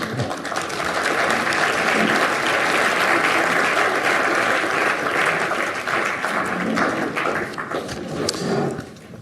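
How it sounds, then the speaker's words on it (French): Sustained, dense applause from a symposium audience at a university event, steady and loud for about nine seconds before tapering off at the end. "On peut les applaudir"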